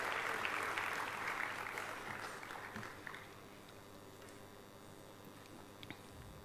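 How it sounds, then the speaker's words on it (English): Audience applause at the closing ceremony of an international conference in New Delhi, a broad hall of clapping heard from a distance that starts strong and gradually fades into scattered claps. "let us have a round of applause for all the leaders, the dignitaries who've made this event a resounding success"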